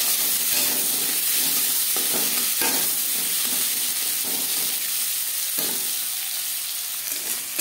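Large-cut onion pieces sizzle in mustard oil in a kadai, a continuous close frying hiss broken by periodic scraping stirs.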